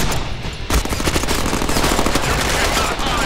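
Rapid automatic gunfire from the Deadpool video game rattles loud and continuous in dense bursts, close and dominant, with faint talk buried underneath.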